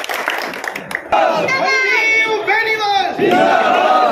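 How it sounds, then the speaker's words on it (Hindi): A crowd at a BJP political campaign rally for a legislative candidate erupts in cheers and shouting, with some clapping mixed in; loud and close, with voices calling out over the noise. "जोरदार तालियों के बीच धन्यवाद।"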